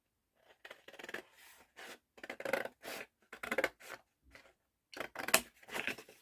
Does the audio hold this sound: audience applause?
no